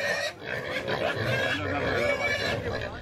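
Wild pigs grunt and snuffle in a rough, continuous jumble at close range, with a narrating voice running over them.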